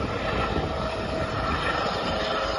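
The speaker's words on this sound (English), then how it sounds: "Sounds of the police helicopter there" A police helicopter flying overhead during a search operation, a steady loud broadband rotor and engine roar held without change throughout.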